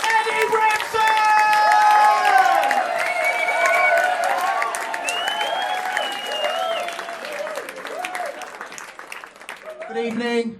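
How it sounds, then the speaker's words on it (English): A comedy club audience roars with sustained applause, whoops and cheers, loud and dense throughout, with a host's voice calling over the crowd near the end. "Applause now! Whooping now! Cheering now!"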